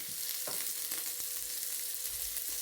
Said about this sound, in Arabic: هتحطي شوية زيت صغيرين ومعاهم مكعبين من الزبدة